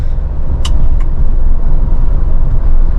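A car cruises in fifth gear at around 80 to 90 km/h, a loud, steady road and engine roar filling the cabin, broken by a couple of brief sharp clicks.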